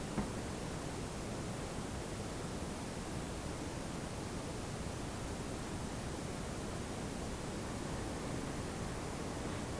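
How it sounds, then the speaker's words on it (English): A Google Home smart speaker plays an ocean sound, a steady wash of broadband surf-like noise, fairly faint and unchanging for the whole stretch with no voices. "So it will make an ocean sound."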